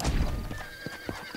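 A horse in the video game Red Dead Redemption gives a short neigh at the start. Soft hoof clip-clops follow, with no one talking.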